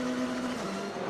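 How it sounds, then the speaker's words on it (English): Wheel spin from a World Touring Car Championship race car coming off a corner at Shanghai in 2013, heard as a brief, loud engine whine and tire scrabble that drops in pitch midway. "you could hear the wheel spin off there"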